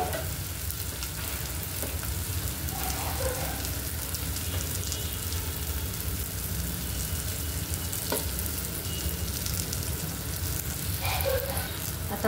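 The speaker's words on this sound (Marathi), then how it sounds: "जोपर्यंत आपला कांदा भाजून होत आहे" Onion frying in a pan for a capsicum curry, a dense, continuous sizzle like steady rain, with occasional faint stirring clicks and scrapes.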